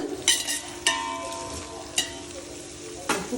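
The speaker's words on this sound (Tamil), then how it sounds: "இப்போ வெங்காயம் கொஞ்சம் நல்லா வதங்கிடுச்சு" Onions frying in a pan for mutton biryani, stirred with a spoon: a soft, steady close sizzle broken by four distinct scraping strokes spaced about a second apart.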